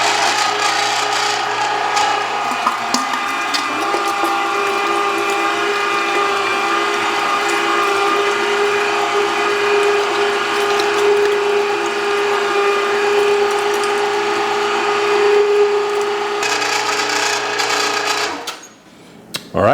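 A 1.5-horsepower electric meat grinder, run by a foot pedal, grinds meat for Texas sausage with a steady, loud mechanical whir and hum that holds for nearly twenty seconds before stopping abruptly near the end.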